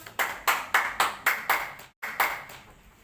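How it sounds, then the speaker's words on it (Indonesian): A classroom of fourth-grade students claps in unison for a classmate's group, about nine loud, evenly spaced claps with one brief pause. "Tepuk tangan untuk Raipa dan kelompoknya."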